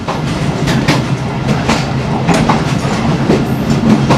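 A Pakistan Railways train runs at speed, heard from inside the guard cabin: loud continuous rumble with rhythmic clickety-clack of wheels over rail joints, steady throughout.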